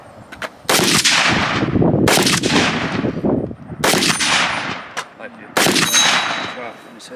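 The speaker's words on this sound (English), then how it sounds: "we've completed our course of fire to test and evaluate these rifles from the 1970s" Bursts of 1970s rifle fire, M16 among them, at a test range: four loud, sharp volleys of rapid shots, each ringing out and echoing away before the next string begins.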